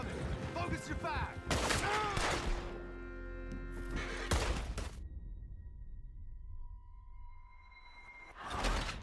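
Bursts of gunfire aimed at a horse-drawn coach in Red Dead Redemption 2, several loud volleys separated by pauses, mixed with horse whinnies and hoofbeats, with a voice speaking early on.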